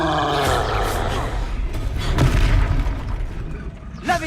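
A Confringo blasting spell exploding during a Hogwarts Legacy battle: a deep booming burst rolls out midway over a rumbling game soundscape, with a voice calling out just before.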